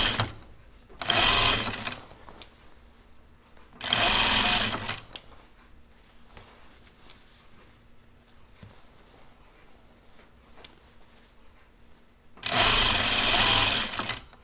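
A sewing machine tacks trim onto fabric for pajama bottoms in three short, loud bursts of rapid stitching, separated by quiet pauses with faint handling sounds.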